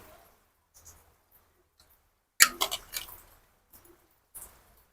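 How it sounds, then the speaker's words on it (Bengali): Taro pieces tumble into boiling water in a wok: a sudden wet splash and plop, a few squishy follow-up splashes, then quiet bubbling and one more small splash near the end. "এবার জলের মধ্যে কচুগুলো দিয়ে দেব, দিয়ে ভালোভাবে সেদ্ধ করে নেব।"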